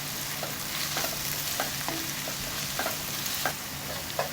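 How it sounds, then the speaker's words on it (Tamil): Vegetables for paneer fried rice sautéing in a pan, a steady broadband sizzle with repeated scraping stir strokes roughly every half second, close and fairly loud, no voices. "இது எல்லாத்தையும் சேர்த்து நம்ம நல்லா ஒரு வதக்குவோம்"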